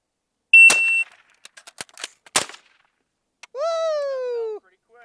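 A shot timer beeps, then rapid gunshots from a shooting drill crack out in a quick burst, a couple of closely spaced shots follow, and a second timer tone sounds after a short gap.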